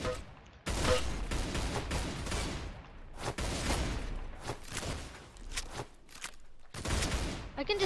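Rapid gunfire in the Roblox game Arsenal, dense bursts of shots in quick succession with short gaps, loud and close, with players talking over it.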